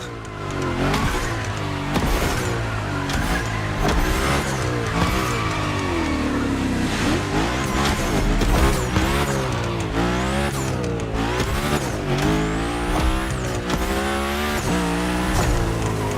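A car slides and drifts in The Crew Motorfest, engine revving up and down with repeated tire squeals and skids over a continuous loud run, with no one speaking.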